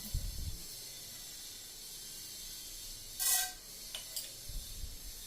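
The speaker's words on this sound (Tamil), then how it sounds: "கடுகு பொரிஞ்சிருச்சு" Mustard seeds and urad dal sizzle in hot oil in a pan, giving a continuous soft hiss. A couple of brief louder sputtering bursts stand out midway, and a few low knocks come near the start and end.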